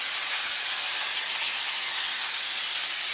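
A steady, loud spray of brake cleaner on the brake pads of a 2016 Mazda3 hisses continuously at close range for a few seconds without pause.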